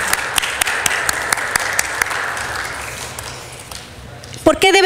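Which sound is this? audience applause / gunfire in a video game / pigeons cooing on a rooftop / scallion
audience applause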